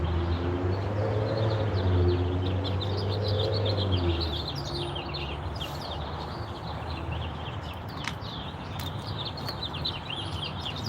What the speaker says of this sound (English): Birds are out.